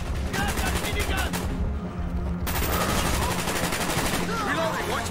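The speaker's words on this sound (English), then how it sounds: "Mason! Grab that minigun!" A minigun roars in a Black Ops campaign battle, a sustained, buzzing stream of rapid shots that briefly cuts out and then resumes, loud and close over chaotic combat with shouted voices.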